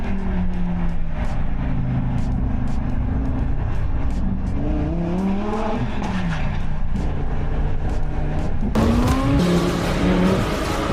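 A car drives past while a camera tracks it, its engine rising and falling in pitch as it revs and passes close by, ending in a brighter burst of tire and road noise, with no talking.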